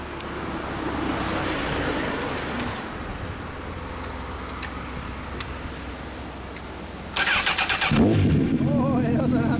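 2006 Honda CBR1000RR Fireblade motorcycle with an Akrapovic slip-on exhaust: a steady rough idle for several seconds, then a loud sharp rev rising and falling near the end, heard close up.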